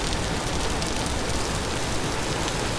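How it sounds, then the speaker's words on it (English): Steady, dense rain pours down in the survival video game Vintage Story, a constant hiss of drops with no pauses, voices or other sounds. "man, it's raining here too"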